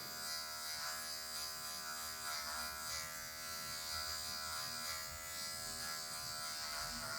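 Electric hair clippers buzz steadily and continuously while cutting a mid fade haircut, the motor's drone close, even and loud throughout, with no talking.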